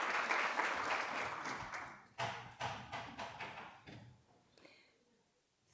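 Applause from dental college faculty and staff at a state-of-the-college address, dense and steady at first, then thinning into scattered claps and fading out.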